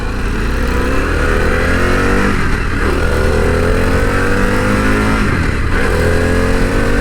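Harley-Davidson Pan America motorcycle on a test ride, its engine droning loudly and steadily throughout with continuous wind and road roar, briefly swelling around two throttle changes.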